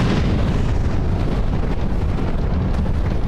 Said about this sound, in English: There's not normally explosions here.